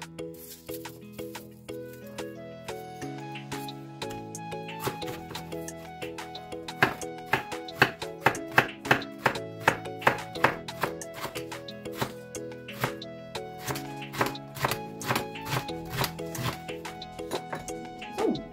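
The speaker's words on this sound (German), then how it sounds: "Als erstes beginnen wir mal damit alles zu schneiden. Den Lauch, den Knoblauch, den Champignons und unseren Tofu." Kitchen knife chopping leek, garlic, mushrooms and tofu on a board, a steady run of sharp close taps that speeds into a rapid rhythm, with quiet background tones underneath.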